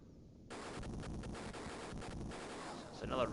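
Rapid attack-helicopter cannon fire on twin gun emplacements in the Sega Genesis game Jungle Strike, starting abruptly as a dense, continuous mechanical rattle of shots, close and loud, with a louder burst at the end.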